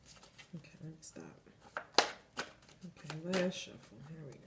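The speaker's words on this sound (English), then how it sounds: "Okay, last shuffle." Tarot cards being shuffled by hand in quick riffling bursts and soft slaps, close and fairly quiet, with a voice speaking in between.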